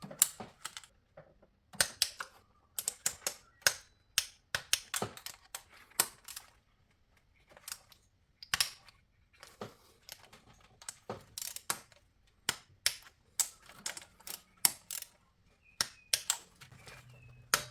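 Bolts on a Mercedes M272 V6 are tightened to 20 newton meters, heard as a long series of sharp, close metallic clicks and ratchet ticks in irregular clusters with quiet gaps between them, and no speech.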